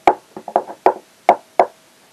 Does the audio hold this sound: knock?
yes